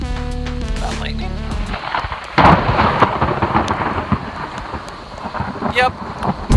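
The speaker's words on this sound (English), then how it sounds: "It's definitely raining a little bit," Rain falls through a storm, a steady hiss with a low rumble of thunder or wind near the start, while scattered louder knocks and rustles sound close by.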